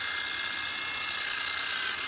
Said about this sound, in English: I just got a drill with a little wire brush and I'm going to clean it off